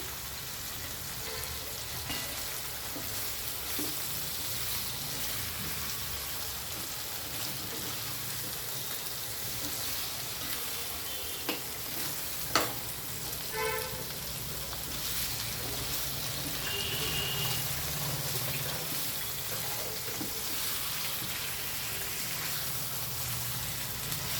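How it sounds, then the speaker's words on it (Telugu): Bone-marrow mutton pieces (nalla) frying in hot oil give a steady, even sizzle with faint crackles and a few sharp pops. "ఇది మనకు ఆయిల్లోనే ఫ్రై అయిపోవాలి"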